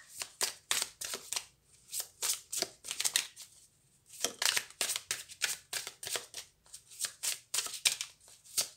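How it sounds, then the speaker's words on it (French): Astrology cards being shuffled by hand in quick, rhythmic bursts of riffling and flicking, close and crisp, with a brief pause in the middle. "On va regarder, alors avec ces cartes-là, les cartes des astres."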